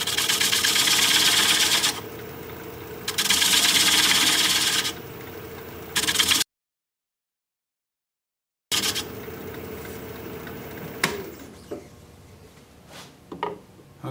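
A wood lathe spins a maple bowl at about 500 RPM, giving a steady whirring drone that pulses louder and softer, stops abruptly for a moment, then resumes before trailing off into light scraping and knocks.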